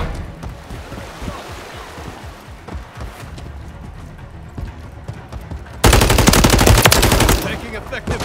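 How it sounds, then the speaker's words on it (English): Gunfire in Call of Duty Modern Warfare III: close, rapid machine-gun bursts rattle throughout, then a louder sustained volley near the end. "Taking effective fire."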